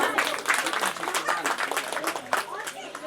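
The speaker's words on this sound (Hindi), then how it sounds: "सभी तालियों से उनका स्वागत करें।" An audience at a Devi Bhagwat Katha religious gathering claps in welcome, a brief burst of dense applause heard close, with a voice over it.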